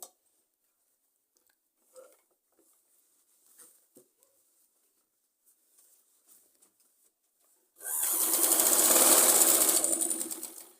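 After several seconds of faint handling rustles, a sewing machine starts up and stitches along a folded fabric edge of a Punjabi salwar, a loud, fast, steady whirring run lasting about three seconds.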